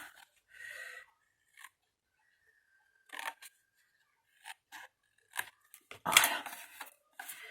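Scissors snip the corners off paper glue tabs, giving a series of short, quiet cuts separated by silent gaps, with a slightly louder rustle of paper near the end.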